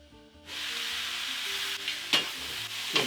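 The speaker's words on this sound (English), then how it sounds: "Give this a stir." Onions, garlic and ginger being stirred in a hot pan for a goat dry fry, a soft steady sizzle with a few sharp scraping clicks of the utensil against the pan bottom.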